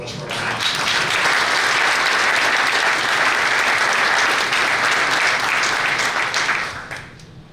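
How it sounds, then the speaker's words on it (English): Loud, sustained applause from a dinner audience honoring a guest, dense clapping holding steady for about six seconds before tapering off quickly at the end. "So let's have a round of applause for Rodney."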